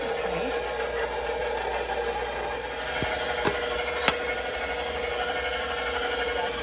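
A stand mixer whirs steadily as it beats flour batter for a Thanksgiving side dish, making a continuous close motor hum with a few faint clicks and no talking.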